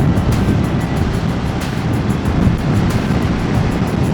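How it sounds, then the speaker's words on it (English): Strong wind buffeting steadily on a high mountain road on the way to Tso Moriri in Ladakh, India, a continuous loud roaring rush with no talk. "So it is quite windy today."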